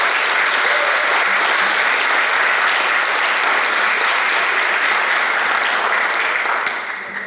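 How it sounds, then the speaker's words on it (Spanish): An audience at a book presentation welcomes a speaker with loud, sustained applause. The clapping is thick and close and holds steady for several seconds before tapering off. "Lo recibimos con un fuerte aplauso."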